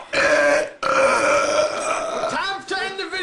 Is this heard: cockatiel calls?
no